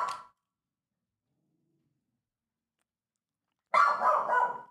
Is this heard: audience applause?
no